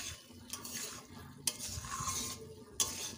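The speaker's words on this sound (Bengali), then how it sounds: "এবার ভেজে রাখা আলুটা দিয়ে দেব।" Fried, mostly boiled potato pieces stirred into a sizzling spiced rohu fish curry masala with ginger and cumin paste, a steady close frying hiss broken by a few sharp utensil scrapes and clinks, no talking.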